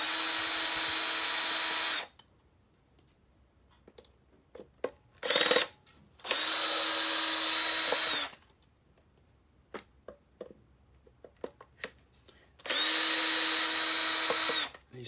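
A power drill runs in three bursts of about two seconds each, unscrewing soft screws from the motor control unit of a Mitsubishi i-MiEV, with small clicks and taps of handled parts in the quiet gaps between.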